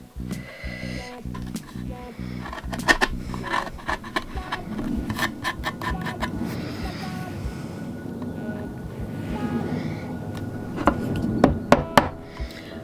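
A sharp chisel cuts a hinge recess in wood by hand, with repeated scraping and paring strokes broken by sharp knocks and taps, fairly close and continuous.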